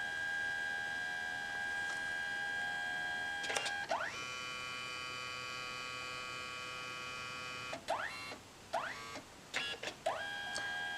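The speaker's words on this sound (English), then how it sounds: "Next comes the magenta." CMYK dye-sublimation photo printer laying down its magenta pass, a steady close whine and mains-like hum broken by several short mechanical bursts and rising motor sweeps, repeating toward the end.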